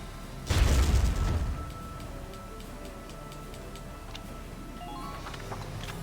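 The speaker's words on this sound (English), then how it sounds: "Blow up the shock trooper." A single loud explosion from a grenade blowing up a shock trooper in the video game Valkyria Chronicles Remastered, a deep burst that fades over about a second, followed by quiet rhythmic ticking.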